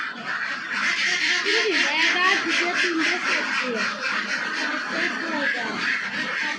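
Flock of egg-laying ducks on a small farm quacking continuously, dense overlapping calls close by, while someone talks over them.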